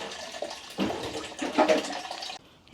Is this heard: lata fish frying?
no